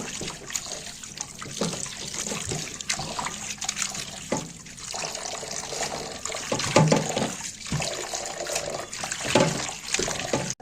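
Beef tripe being washed under running water, with splashing and gushing in uneven bursts as the tripe is handled, close and moderately loud, with no talking.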